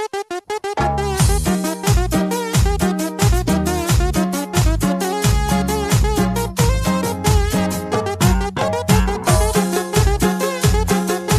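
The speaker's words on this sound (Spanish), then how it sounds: "Escuchá, mi cumbia suena así." Cumbia music plays loud and steady, with a bright repeating melody over a driving, evenly pulsing rhythm and strong bass hits throughout, with no voices.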